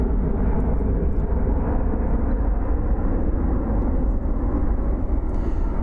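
A steady, loud broadband roar from an airplane coming in to land at Christchurch Airport in a northwesterly crosswind, heard continuously without talk.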